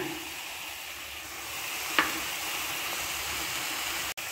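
A steady, close sizzle of eggs frying in a pan with drumstick leaves runs throughout, with a soft tap near the middle and a brief dropout near the end.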